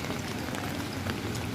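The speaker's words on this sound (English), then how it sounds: "Okay, here I am in the rain." Steady rain on a rainy day in the Philippines pours down close and dense, a constant hiss and patter on an umbrella, with no pauses.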